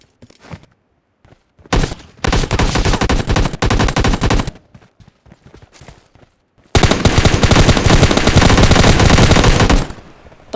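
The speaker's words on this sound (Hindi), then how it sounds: "देखना गाइस गन शॉट्स।" Rapid bursts of gunfire from a mobile battle royale video game, loud and dense, with a stretch of automatic fire, a quieter gap of scattered shots, then a long sustained barrage.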